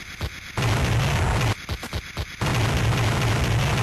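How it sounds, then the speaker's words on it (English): Loud explosions from the 1989 computer game Operation Gunship roll one into the next in a chain reaction, heavy rumbling booms with brief crackling gaps between bursts. "look at that explosion, that chain reaction"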